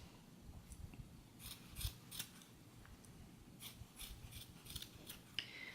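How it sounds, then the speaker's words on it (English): Scissors snipping the yarn tails of a multicolor pom pom, a series of quiet, close, crisp cuts in an irregular rhythm with soft rustling between them. "We're just going to cut all these little ends nice and neat."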